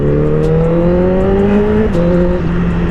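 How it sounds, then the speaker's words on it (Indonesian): A Honda CBR 1000cc motorcycle accelerates hard, its engine note climbing steadily in pitch, then briefly dipping at a gear change before rising again, loud and close with no talk. "Nah ini nih ngegas dikit ya."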